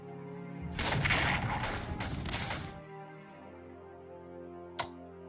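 Artillery fire from the World War 1 strategy game Strategic Command: a dense, roaring burst of booming shots lasting about two seconds, fading into a low rumble, then one sharp faint crack shortly after.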